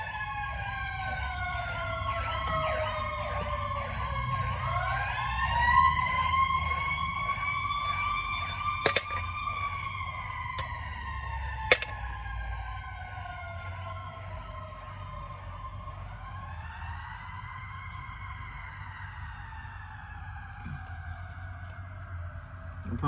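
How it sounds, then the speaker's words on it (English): Emergency sirens wail and sweep up and down as vehicles pass, several overlapping tones rising and falling over a low road rumble. "I don't know what's going on with all the sirens."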